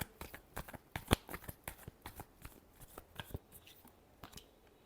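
Tarot cards are shuffled in a quiet room, producing a soft string of crisp taps and riffling flicks at an uneven rhythm, with one sharper snap near the middle.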